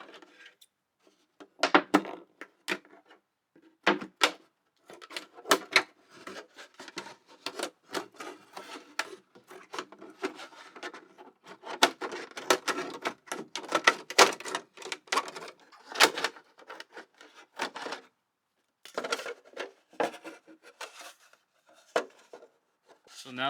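Plastic container being cut to make a mini greenhouse, with irregular close crackling, rubbing and snipping bursts separated by short pauses, no talk.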